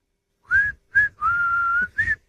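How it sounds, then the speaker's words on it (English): A man whistles a short familiar tune in four clear, close notes, the third held long, alone and fairly loud against silence. "Jose's whistling it."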